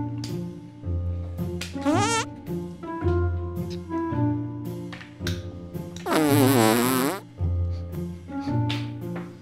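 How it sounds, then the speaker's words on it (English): A loud, close fart-like noise with long buzzing, wavering blasts and a sudden high squeal, rising to a strong drawn-out peak near the end, with no talking. "you fart ah?"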